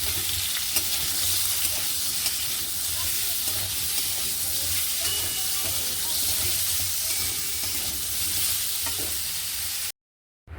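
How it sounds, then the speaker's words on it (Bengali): Potatoes with salt and turmeric fry in a pan, giving a loud, constant close sizzle with occasional stirring scrapes, cutting off abruptly near the end. "আলুটাকে লাল লাল করে ভেজে নেব।"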